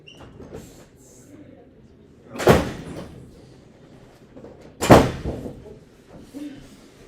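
Two heavy doors in a student government meeting room swing shut one after another, each landing with a loud, broad thud a couple of seconds apart over faint room murmur.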